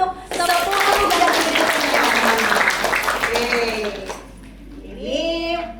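A crowd at an awards moment for a national non-digital learning media competition claps, a dense stretch of applause over tonal chiming and voices, fading toward the end as people talk.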